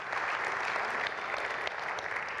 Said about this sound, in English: Can you all give the Lord a hand clap for your church?